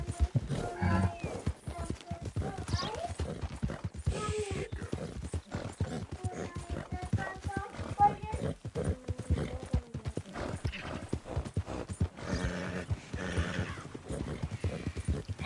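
Horse hooves clip-clop in a steady walking rhythm in the video game Red Dead Redemption 2, close and moderately loud, with occasional game sounds and faint voices in between.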